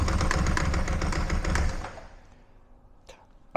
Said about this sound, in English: The bad news is it does make a distinct clonky noise.